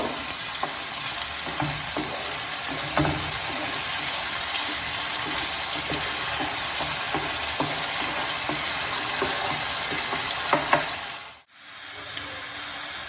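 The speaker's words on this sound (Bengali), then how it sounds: "কিছুক্ষণ নাড়াচাড়া করব" Onions frying in a pan for Bengali prawn malai curry, a loud, steady sizzle close by with scattered stirring scrapes, dropping out briefly near the end before the frying resumes.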